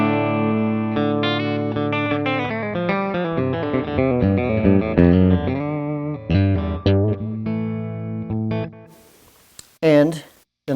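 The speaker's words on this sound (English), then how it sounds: "And then from there, I go into the faux tape echo." Electric guitar played through a Wampler Faux Tape Echo pedal on a country pedalboard, a twangy run of picked notes and chords with a light slapback echo, loud and close, ending in a few sparse plucked notes.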